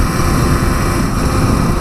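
Allen Millyard's Kawasaki 350 Four two-stroke motorcycle runs steadily while being ridden, a loud, constant engine drone blended with heavy wind rush and no speech.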